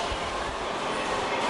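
Steady roar of a Kyushu Shinkansen N700 series bullet train at Kurume station, a continuous broadband rumble and rush of rolling cars with no clear voices.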